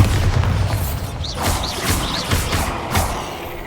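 Bombarda spell explosions in a video game: several short booming blasts, each with a brief rising whistle, go off about every half second over a steady rumbling game background.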